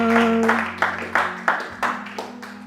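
A church congregation claps in a steady, rhythmic beat, about five or six sharp bursts of hand claps close by, with a sustained tone and voices droning underneath during worship.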